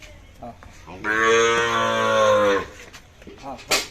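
A Sahiwal bull lets out one long, loud, sustained moo up close, with brief human voices just before and after it.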